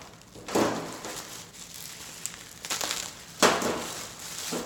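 Bubble wrap and layered packaging being pulled out and crumpled, several separate crinkling bursts close by with quieter rustling between them.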